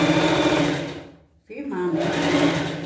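A sewing machine stitches a Cinderella-style pet costume dress, whirring loudly and closely, pausing briefly before starting up again, with someone speaking over it.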